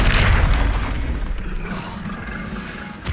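Repulso spell cast in the Hogwarts Legacy video game, a heavy booming whoosh that hits loudest at the start and then decays into a steady rumbling roar over a few seconds.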